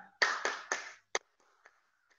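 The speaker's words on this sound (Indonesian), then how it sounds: "Coba tepuk tangan pramuka lagi. Mulai 1, 2, 3." Scouts performing the Pramuka rhythmic hand clap, three quick sharp claps in a row followed by a single clap and a few faint scattered ones, close and dry with no talking.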